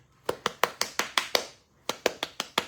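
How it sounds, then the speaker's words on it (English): Hands clap rhythmically against gel-coated curly hair flipped upside down: six sharp, close pats, a brief pause, then five more in steady succession. "I prefer the clap on finer hair."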